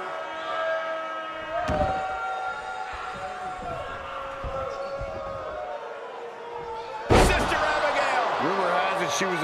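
A wrestler crashes onto the ring mat in an AEW women's match, one heavy thud near the end over loud commentary and crowd noise, with an earlier smaller impact.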